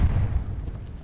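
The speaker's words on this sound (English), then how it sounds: "They're sending mortar shells." A mortar shell explodes in Call of Duty Vanguard: one deep, heavy boom that rumbles low and fades out over about a second, loud, with no talking.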